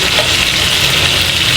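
Chicken pieces fry in a pan with a dense, loud, continuous sizzle and crackle heard up close, and no voices over it.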